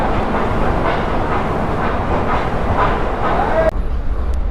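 The Ooty toy train, setting out from Mettupalayam, rumbles along the rails in a loud, continuous roar with faint rhythmic clacking close by, and a brief high squeal near the end.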